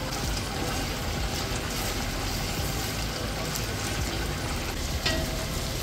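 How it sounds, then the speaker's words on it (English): Ingredients for Nigerian jollof rice fry in a pot with a dense, continuous sizzle, close and fairly loud, with occasional stirring scrapes and no voices. "you have to like fry this stuff well"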